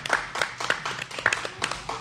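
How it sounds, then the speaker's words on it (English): Hand clapping during a basketball program discussion, a short series of sharp, distinct claps in an uneven rhythm, close and fairly loud, with faint voices in the background. "Let's give that a hand clap."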